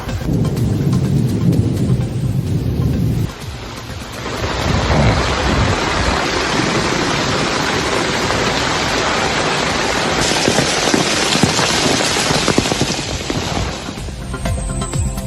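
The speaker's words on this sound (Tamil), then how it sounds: "குஜராத்தின் பல்வேறு பகுதிகளில் வெளுத்து வாங்கிய மழை." Heavy monsoon rain pours down across Gujarat as water floods the roads, a loud, steady roar of downpour running throughout with deep rumbling underneath and no voices.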